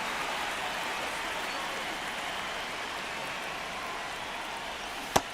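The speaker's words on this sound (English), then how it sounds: "This rain is not letting up." Steady rain falls in the baseball game MLB The Show 26, a constant soft hiss that holds even throughout, with one sharp click near the end.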